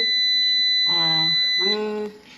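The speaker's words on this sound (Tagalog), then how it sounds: "Nag-alarm na po siya. Ibig sabihin, ang gagana na po ngayon ay ang battery." A Power Master POW-HVM4.2M-24 hybrid inverter sounds its alarm when switching over to battery power, giving two electronic beeping buzzes over a constant high-pitched whine and hum, close and clear.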